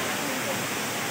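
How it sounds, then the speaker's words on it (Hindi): A waterfall roars as a steady broadband rush of falling water, loud and continuous for about a second, with a voice faintly mixed in. "ये मैंने सब झरना के नज़ारा देखा थे"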